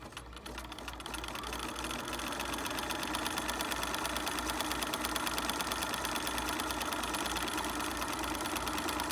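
A sewing machine runs steadily up close, a fast even mechanical whirring and ticking as it stitches a bishop sleeve finish, continuous throughout with no talking.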